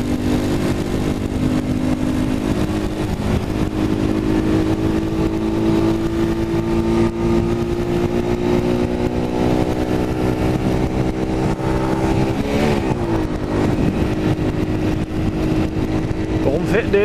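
Motorcycle riding along the B6 highway through road construction zones around Halle, Germany, its engine a steady loud drone with shifting pitch and one clear change in revs, heard from the rider's position along with wind noise.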